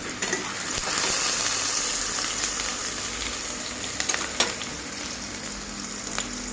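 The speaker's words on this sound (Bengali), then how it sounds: "আলুটাকে ভেজে নেওয়া হচ্ছে, লাল লাল করে আলুটা ভাজা হবে" Potato pieces fry in hot oil, giving a steady, close sizzle with occasional sharp crackles and spatters and a brief stirring clatter, with no voices heard.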